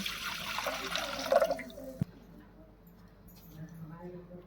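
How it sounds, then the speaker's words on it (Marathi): A spoonful of water goes into sugar to start a syrup for balushahi: a short, splashy trickle for about a second and a half, then quiet kitchen sounds while someone talks softly. "एक चमचा पाणी टाकायचं"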